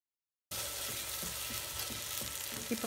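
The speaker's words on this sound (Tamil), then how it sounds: "இப்போ வெங்காயம், தக்காளி, கருவேப்பிலை, இதெல்லாம் போட்டு நல்லா வதக்கிங்க." Onion, tomato and curry leaves are sautéed in a hot pan, starting abruptly after a moment of silence with a steady close sizzle and occasional stirring clicks, no voices.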